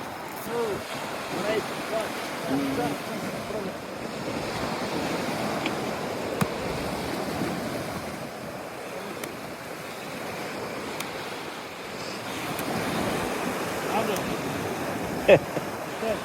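Steady roar of strong ocean surf and wind fills the whole stretch, a constant wash of crashing waves with no clear pauses.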